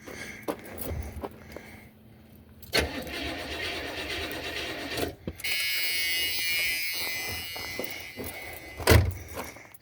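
A Buick LeSabre with a worn-out carburetor cranks with a whirring starter, then catches and runs at a rough, loud idle for several seconds, with clanks and a final sharp bang close by.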